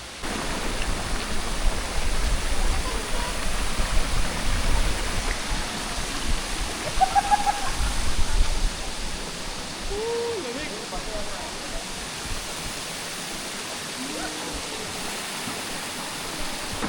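Rushing water of a waterfall pours as a steady broadband roar throughout, with people talking faintly over it.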